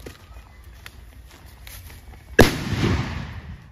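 Faint quiet rustling, then a sudden sharp bang of a plastic bottle bomb exploding, followed by a burst of spraying, hissing rush that fades over about a second.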